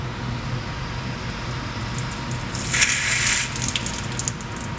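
Water rushes steadily through a Watts 909 reduced pressure backflow assembly as flow is re-established. A constant hiss swells louder and brighter for about a second midway, then settles back.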